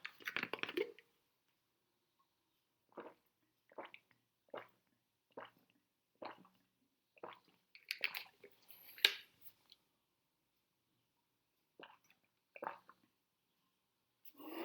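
Someone drinks water during an online Model UN talk on collaboration and compromise, a series of small close sips and swallows spaced through near silence, soft and intermittent.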